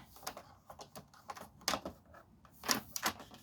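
A paper cutter trims a strip off the bottom of a paper piece for a stamping craft, giving a few short, crisp slicing and clicking sounds close up, with no talking.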